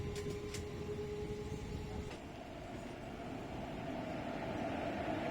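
A local train at the small Padmapukur station on a quiet rural line rumbles steadily nearby, with a brief high squeal and a few clanks early on before a continuous rolling drone.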